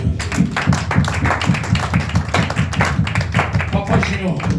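A church congregation at a night of prayer applauding, a steady rhythmic clapping held at an even pulse, loud and close, with voices talking and calling out over the claps.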